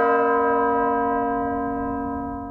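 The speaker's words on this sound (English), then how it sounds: "I want to take note of the bell" A single deep bell strike from the Death Note anime, its rich sustained ring slowly fading away alone in near silence.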